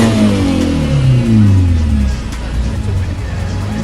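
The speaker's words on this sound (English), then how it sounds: "Rev it one more time." A BMW 1 Series E88 engine revs up and falls back, loud and close, its pitch sweeping down before settling into a rougher idle, with voices in the background.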